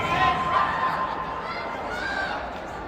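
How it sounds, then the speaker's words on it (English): Crowd of spectators at a youth lacrosse shootout, a diffuse murmur of chatter and scattered laughter at moderate distance, steady and unbroken throughout. "We've collected quite a crowd here."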